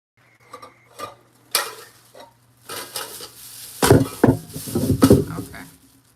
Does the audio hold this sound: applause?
no